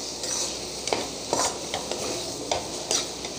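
Cauliflower and egg being stir-fried in hot oil, a steady low sizzle with a few sharper scrapes of a spatula against the pan every half second or so.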